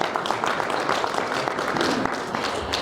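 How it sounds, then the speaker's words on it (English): An audience at a Pan-African youth leadership summit applauds, a dense, even patter of many hands clapping at steady volume through the whole stretch. "You can clap for me."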